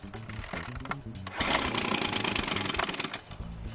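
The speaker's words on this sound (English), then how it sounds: "the machine should start in the first or second pull" An ECHO leaf blower's small two-stroke engine catches after a pull start, a brief sputter building into a steady loud running buzz that holds for a few seconds before easing slightly.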